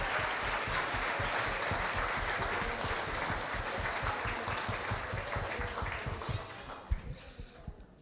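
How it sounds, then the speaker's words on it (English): A large audience at an office management awards ceremony applauds steadily with dense clapping, then the applause thins into a few scattered claps and fades. "So a massive round of"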